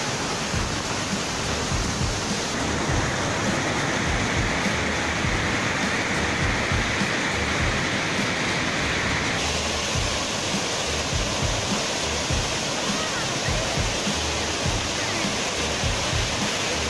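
Loud, constant rush of flowing water, like a stream or small cascade close by, filling the whole clip without pause.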